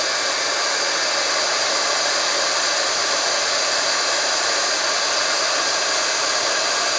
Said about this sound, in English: When you use a heat tool, you just move it around slowly as you heat up the powder.